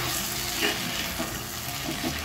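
Okra fry with chili powder stirred in a pan, a steady close sizzle of frying with light scraping of the spoon through it, no voices.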